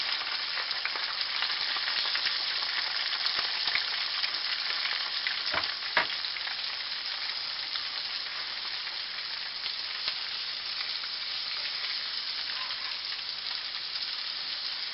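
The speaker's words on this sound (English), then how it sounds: "I'm going to throw some more peppers and onions on the grill here" Peppers and onions sizzling on a grill, a steady, close frying hiss that continues without a break, with a few faint clicks of a utensil and no talking.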